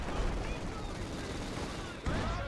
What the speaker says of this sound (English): Infantry section being hit by artillery.